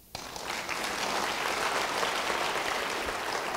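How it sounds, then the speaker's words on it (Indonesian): A church congregation bursts into applause after a sudden start, a dense, steady wall of clapping from many hands that holds loud and even, with no talk over it. "Dengan tepuk tangan."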